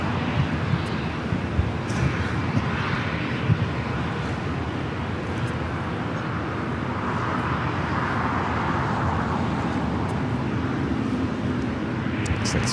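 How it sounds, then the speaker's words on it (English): An American Airlines Boeing 777-200ER jet airliner taxis at LAX, bound for Dallas-Fort Worth. Its engines give a steady, moderately distant roar and whine with a little wind noise and no talk. "The American 777 at 200 ER heading to Dallas-Fort Worth, Texas, starting his taxi."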